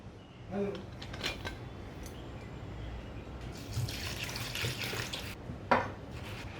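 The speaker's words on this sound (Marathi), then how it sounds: "आता आपण ह्याला पाणी घालून साधारण पाच सहा तास तरी हे भिजत ठेवूया" Water is poured from a small vessel onto washed jowar and dal in a bowl to soak, a soft trickle and splash amid faint clinks of utensils, quiet and close.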